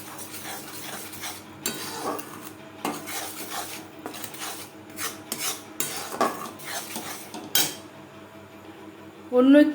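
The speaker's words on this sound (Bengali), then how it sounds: "বেসন মেশাতে থাকবো আর নাড়তে থাকবো" Gram flour being stirred in a pan for dilkhush sweet, with repeated scraping and clinking of a metal spoon against the pan in irregular bursts, close and fairly loud, with a sharp clatter at the end.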